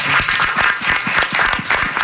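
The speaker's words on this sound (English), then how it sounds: "The little kids over there clapping." Steady applause from an audience that includes young children, continuous dense clapping filling the room at a live farewell radio broadcast, with no talk over it.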